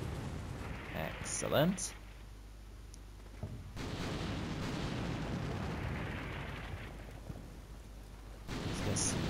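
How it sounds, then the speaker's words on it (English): An artillery barrage in Combat Mission: Shock Force 2, with distant rumbling impacts and booms rolling on under a steady roar and a single brief spoken word. "Artillery's coming down."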